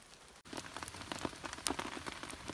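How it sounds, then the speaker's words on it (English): Steady rain patters on a tarp shelter at a backcountry canoe campsite in Algonquin, a dense close hiss of drops with scattered sharper taps, running on without pause and with no talking. "as you can hear on my tarp shelter, it's raining again."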